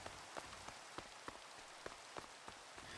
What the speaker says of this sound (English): The rain hitting the umbrella is quite annoying.